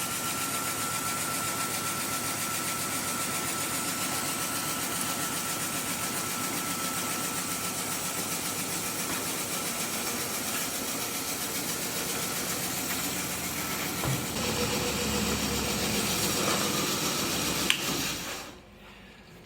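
A Javelin 16-4 portable 4-inch auger runs on without load after being fed dense powder. Its steady mechanical drone and rattle continue unchanged for many seconds, then cut out abruptly near the end.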